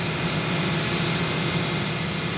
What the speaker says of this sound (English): That's the sound of the new owners of the West Rock paper mill at work.